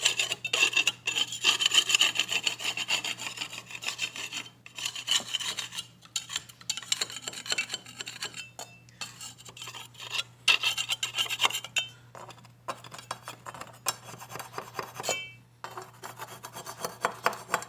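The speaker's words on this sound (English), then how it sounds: "take a flat blade here, go along the edge of the tiles, make sure I get any old grout and mortar off the surface." A flat blade scrapes old grout and mortar off the edges of tiles in a tile-over-tile installation. Close, irregular rasping strokes repeat with brief pauses between them.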